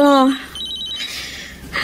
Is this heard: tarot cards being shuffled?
no